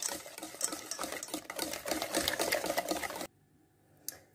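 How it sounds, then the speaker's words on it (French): A spoon or whisk stirs cake batter made with vanilla sugar and baking powder in a bowl, scraping and clattering busily for about three seconds before stopping, then one faint tap. "Et on va venir mélanger."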